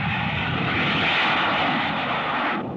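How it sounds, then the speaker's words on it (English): A jet interceptor aircraft roars steadily and loudly overhead, a broad continuous engine rush that holds for nearly three seconds before cutting off, with no voices. "Through communication circuits, they can send jet interceptors into the sky toward the enemy."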